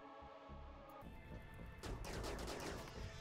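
Gunfire in the RimWorld game: a dense burst of rapid, crackling shots that builds into a loud volley with several overlapping impacts.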